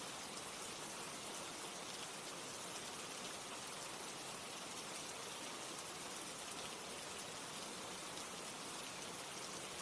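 Steady rain falling, a dense, even hiss of drops that carries on without a break for the whole stretch, with no voices or other sounds.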